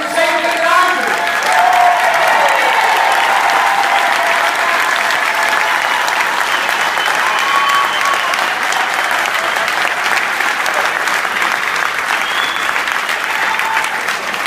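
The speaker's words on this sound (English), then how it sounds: "I want to ask everybody in labor, from the labor unions, been there, done that, to stand up and get a round of applause." A full room claps for labor union members standing at an award event, the sustained dense applause staying loud and even throughout, with a few voices briefly audible at the start.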